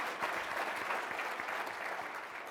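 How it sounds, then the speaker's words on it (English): Steady, moderately distant applause from a conference audience at a national bike summit lunch plenary, an even wash of clapping that continues throughout. "Could we give a round of applause to these amazing"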